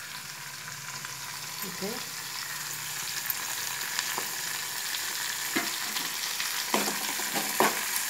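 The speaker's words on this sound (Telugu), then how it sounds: "టొమాటో కూడా వేసేస్తాను, కొంచెం 1 మినిట్ టొమాటోని వేగనివ్వాలి" Tomato sizzling in a pan over a medium flame while upma is being made, a steady close frying hiss with occasional stirring clinks and scrapes, and a voice speaking briefly.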